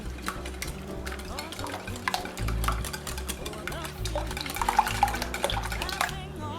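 Bread pudding mixture with raisins is stirred in a bowl, producing wet, sloshing swirls and soft utensil knocks under a low background hum.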